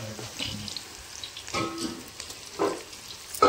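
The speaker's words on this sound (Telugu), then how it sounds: "ఇదిగో గోబీ 65 అయితే వేస్తున్నా చూడండి." Cauliflower pieces for gobi 65 frying in hot oil, a soft continuous sizzle with a few sharper crackles and bursts as pieces go in.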